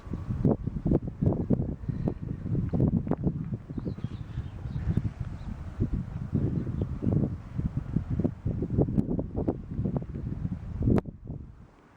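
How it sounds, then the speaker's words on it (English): Wind blows across a wooded riverside campsite with a factory nearby, a steady low rumble with gusty buffeting and scattered rustling bumps that continue throughout the clip and fade at the very end. "the wind's blowing this direction"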